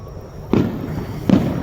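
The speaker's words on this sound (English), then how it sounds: "That was a 15-minute fireworks show." Fireworks from a July 3 show in Irving burst twice, about a second apart, each a sharp boom with a rumbling tail over a steady crowd-and-crackle background.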